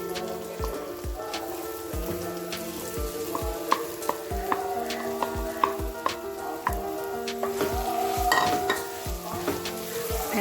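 Raw banana Delhi-style curry frying in a pan with asafoetida, a soft continuous sizzle broken by regular scraping knocks of a spoon stirring, fairly close and without talk.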